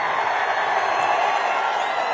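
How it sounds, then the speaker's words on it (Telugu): A large crowd at a political speech roars and cheers in a steady, dense wash of noise, loud and continuous with no clear individual claps. "గట్టిగా చప్పట్లు కొట్టి హర్షాన్ని,"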